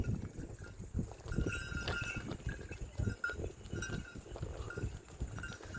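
Cows come along a steep mountain road at Saputara, with faint, scattered bell clanks and soft hoof and movement sounds heard from a distance.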